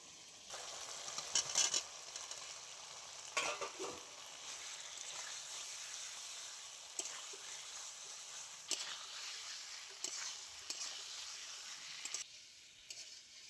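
Pre-fried potatoes sautéing in a spice paste that has released its oil, a steady soft sizzle with occasional louder stirring scrapes and bursts, close and continuous with no talking.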